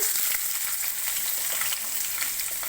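Onions and green chilies sizzle steadily in hot oil, a dense, continuous crackling hiss close by with no voices.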